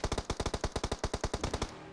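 Rapid automatic gunfire from the mobile battle royale game PUBG Mobile rattles out in a fast burst of about fifteen evenly spaced shots, loud and close, then stops abruptly.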